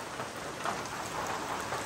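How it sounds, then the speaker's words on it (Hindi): Steady rain falling, a dense even hiss of drops on surfaces, moderately loud and continuous with no voices. "हम तब से जिधर जा रहे हैं बारिश उधर हमारे साथ साथ आ रहा है"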